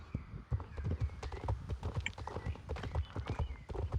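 Horse hooves clip-clop in the online horse-riding game Star Stable Online, a quick, steady run of soft footfalls heard close and fairly quiet.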